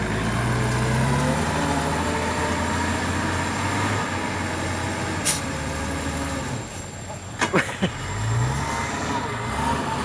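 Six-wheel dump truck engine, an F4 8J, labouring on a slippery muddy dirt track while climbing to dump soil; a steady loud diesel drone runs throughout with brief air-brake hisses near the end.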